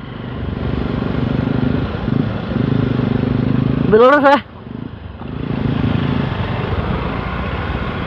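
A motorcycle engine hums steadily through the clip while a person speaks briefly over it, with a short louder burst in the middle.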